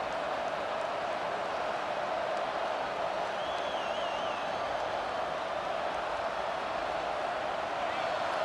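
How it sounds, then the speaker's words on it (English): A steady, dense stadium crowd roar from a college football video game fills the space continuously, a broad wash of cheering noise without distinct peaks. "Listen to the crowd energy here in the early going."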